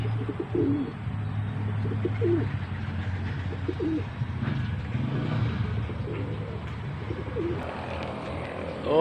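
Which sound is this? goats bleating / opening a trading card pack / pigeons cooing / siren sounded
pigeons cooing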